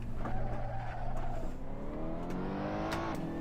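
A race car spins out in an Assetto Corsa online race, its engine droning and sweeping in pitch while tyres squeal and skid across the surface, loud and continuous.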